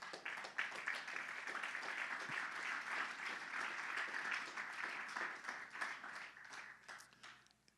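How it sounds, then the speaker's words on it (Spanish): A church congregation at a Spanish-language service gives sustained applause: many people clap in a dense, even roar with distinct slaps poking through, steady for about seven seconds before easing off at the end. "Un aplauso, Señor."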